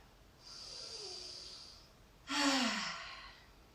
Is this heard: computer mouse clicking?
no